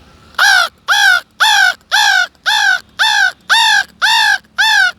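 A man imitates a crow, giving nine evenly spaced, harsh caws in a steady rhythm, loud and close.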